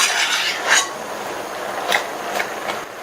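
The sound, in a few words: stirring cooking spinach greens in a pan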